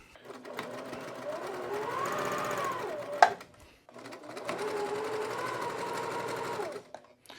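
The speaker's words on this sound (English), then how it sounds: "So I'm going to sew down here" Sewing machine stitching quilt pieces together, two sustained whirring runs of rapid needle stitching separated by a brief pause, close and steady.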